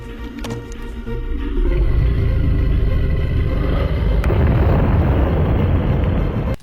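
A movie explosion of a barrel of balsamic vinegar: a loud, deep blast swelling into a sustained roaring rumble that fills the clip for several seconds before cutting off.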